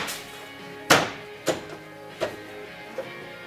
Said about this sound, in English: Push till you hear the clicks.